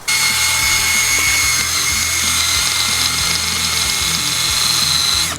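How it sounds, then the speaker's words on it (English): A power drill bores into an Olight Odin flashlight, a loud continuous high whine with a steady grinding rumble beneath, running alone for about five seconds. "Drilling the Odin."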